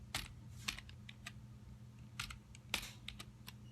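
Arduino code being entered on a computer keyboard, heard as scattered bursts of quiet, close key clicks with short pauses between them and no voices.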